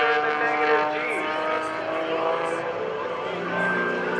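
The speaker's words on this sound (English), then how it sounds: "I see that jet truck out here, making a little fire, a little noise" A jet-powered truck roars at an air national guard open house airshow, a sustained loud engine whine and rumble with shifting tones, while an announcer talks over it.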